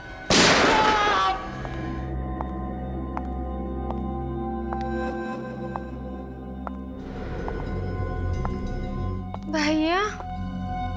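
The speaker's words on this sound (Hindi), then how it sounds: "भाभी ये क्या किया आपने? भैया पे गोली चला दी।" One sharp, loud gunshot bangs out at the start. Sustained dramatic musical tones follow, with a brief vocal sound near the end.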